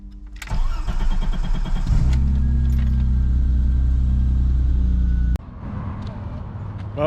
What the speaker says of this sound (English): Time to get the E30 fired up and ready to go.